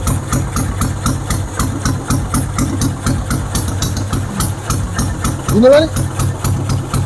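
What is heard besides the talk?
engine idling with BRT 28 carburetor, free-flow exhaust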